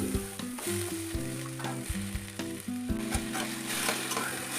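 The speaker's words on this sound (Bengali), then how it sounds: "একটা কড়াইতে সর্ষের তেল গরম করে নিয়েছি এর মধ্যে দিয়ে দিলাম কেটে রাখা আলু" Chopped potatoes hit hot mustard oil in a wok and set off a steady, close sizzle that runs the whole time, with a tonal musical backing underneath.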